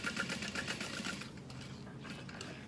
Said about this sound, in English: you want to make sure you're sewing through the card slots